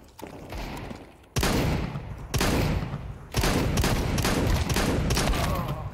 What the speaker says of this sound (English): How is he shooting that fast with a deagle and hitting accurate shots?